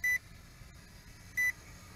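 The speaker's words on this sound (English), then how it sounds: "the beeping tells you that the headless mode is on" Two short, high electronic beeps from a FEILUN FX122 drone signal headless mode, sounding about a second apart over a low, steady motor hum.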